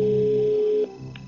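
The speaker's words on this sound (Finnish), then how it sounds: "ja otamme puhelun Saaralle" A telephone call being placed on a Finnish TV quiz show, with a steady electronic ringing or dial tone that cuts off abruptly, followed by a faint short tone in a quiet studio.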